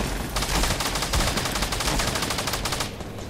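Rapid bursts of automatic gunfire in the Fortnite battle royale video game, loud and dense shots firing in quick succession for most of the moment before cutting off near the end.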